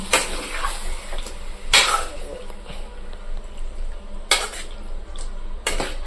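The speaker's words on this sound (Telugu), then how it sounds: "చికెన్ వేసిన తర్వాత ఇది కొంచెం కాలాలన్నమాట బాగా తిప్పుకోవాలి" A spoon scrapes and clanks against a pan while chicken curry is stirred, with four sharp metallic knocks spread over a steady low cooking rumble.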